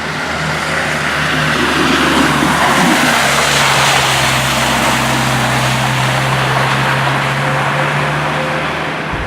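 A 2017 Dodge Viper drives on a rain-wet road with leftover snow and wipers running, its steady engine drone and tire hiss loud and continuous from inside the car, no talking.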